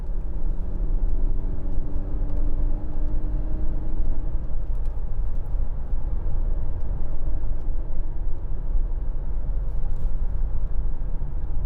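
A 2004 Mercedes-Benz C180 Kompressor accelerating on the road, its engine a loud, steady rumble heard from inside the cabin, with a rising tone early on that then settles into constant road and engine noise.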